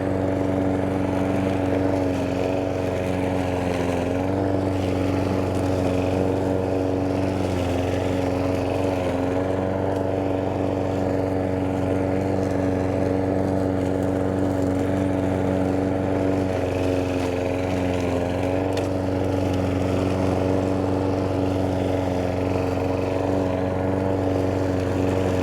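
A riding lawn mower engine in the video game Lawn Mower Simulator drones steadily at close range, a loud continuous rumbling hum that holds without pause throughout.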